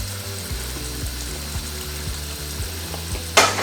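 Cold tap water runs over freshly drained spaghetti in a colander, a continuous hissing stream over a low repeating tone, with a sharper splash or clatter near the end.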